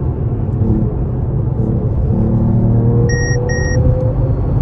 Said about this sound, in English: That's how you drive an AMG, bro.